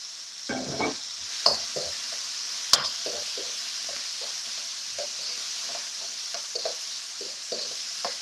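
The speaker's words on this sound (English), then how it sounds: "A teaspoon of oyster sauce, and that's it. Quick stir. Now I add in the chilli." Beef with chilli and oyster sauce stir-fried in a wok: a constant sizzle under repeated scraping and stirring strokes of a utensil, with a couple of sharper knocks against the pan, close by and moderately loud.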